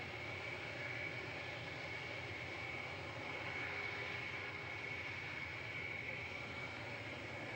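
Concorde prototype 001 takes off at Toulouse with its jet engines giving a steady, even roar and a faint high whine, unbroken throughout.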